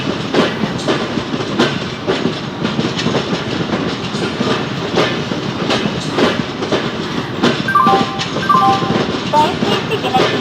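The Hazrat Nizamuddin–Chennai Rajdhani Express pulls out of platform 1 at Vijayawada station, its wheels clattering in a steady rhythmic clickety-clack amid loud rolling rumble, with station voices faintly in the background.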